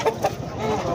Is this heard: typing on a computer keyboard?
no